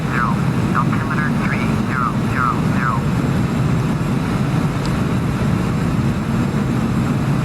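Embraer E-195 airliner engines in the FSX flight simulator, a steady loud jet roar held constant throughout, with brief descending tonal chirps early on.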